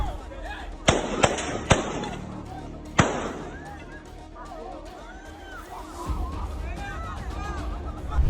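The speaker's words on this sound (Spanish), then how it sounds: "comenzaron a escucharse los disparos" Several sharp police gunshots crack out in quick succession, then one more after a pause, over a commotion of shouting voices.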